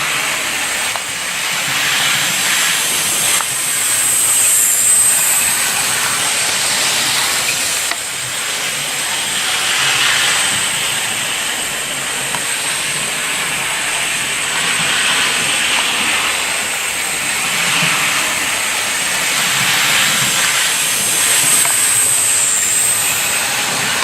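An IHC 2-6-0 Mogul model steam locomotive runs at top speed, a loud, steady whirring rumble with a thin high whine that swells and eases slightly as it travels along the track.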